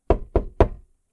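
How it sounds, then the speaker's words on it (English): Three quick knocks rap on a door in a haunted house, close and sharp, evenly spaced within under a second, then silence. "He briefly raps on the door"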